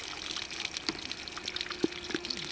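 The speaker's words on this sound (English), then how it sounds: "And pour some water in here, little by little." Water poured slowly, little by little, at a campsite to rinse dry blood out of something, making a faint, soft trickle with scattered small drips and splashes, quiet and close.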